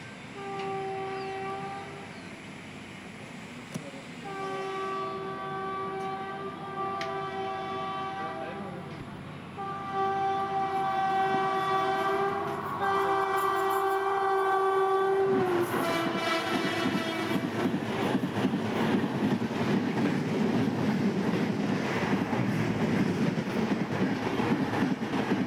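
Mumbai LTT to Karaikal weekly superfast express passing at a crossing, heard from an adjacent train: a long sustained horn blast, then a sudden loud, close rushing roar of rolling carriages with rhythmic wheel clatter.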